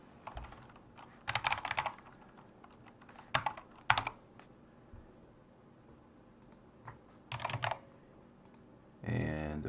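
Computer keyboard typing a username, quiet bursts of quick close key clicks separated by pauses, ending in a faster run of keystrokes.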